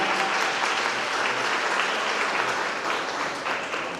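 An audience at a youth event in India applauds, a dense sustained patter of many hands clapping together that stays steady and fairly loud, then fades slightly toward the end.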